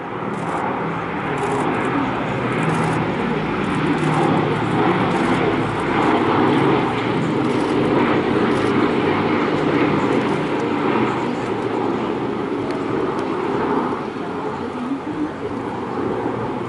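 The vintage B-17 Sally B and a Bristol Blenheim make a flypast at the Bournemouth Air Festival. Their piston engines give a sustained, loud propeller drone throughout, with an announcer talking over the top.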